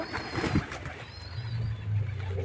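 Pigeons being fed grain in the afternoon give soft, low cooing murmurs close by, with faint light rustling and brief higher chirps at moments over a quiet outdoor background.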